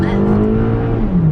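A 2022 Toyota Camry SE with a small engine accelerates on a highway, heard from inside as a steady, droning engine hum that slowly shifts pitch through the short stretch.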